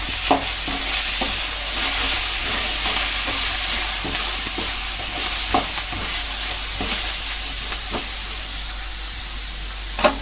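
Spices such as salt and turmeric being stirred into food frying in a pan, with a steady sizzle throughout and repeated scraping strokes of the spoon at an uneven rhythm, close and fairly loud.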